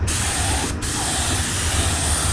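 A compressor-fed spray gun painting the body of a VW Beetle in a garage, a loud, continuous close hiss with one brief break partway, no speech.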